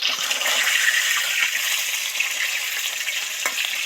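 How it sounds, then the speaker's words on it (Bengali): Rohu fish heads deep fry in hot oil, producing a loud, steady crackling sizzle throughout with a few small clinks near the end. "মুড়োগুলো ডিপ ফ্রাই করে ভাজা হয়ে গেছে, সেই জন্য মুড়ো দুটো সবার আগে তুলে নিচ্ছি।"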